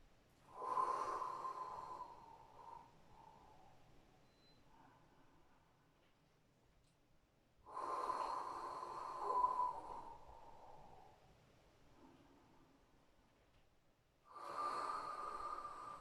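A person breathing during a Pilates class, three slow, loud airy breaths with quiet pauses between, close to the microphone and with no talking.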